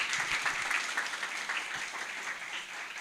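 Steady applause from a live audience at a youth camp gathering, dense and continuous clapping filling the room throughout with no talk over it.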